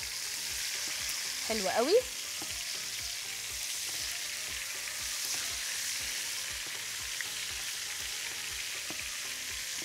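Chicken frying in a pot, a soft steady sizzle heard close and continuous, with a brief louder clatter near the start and a short spoken remark.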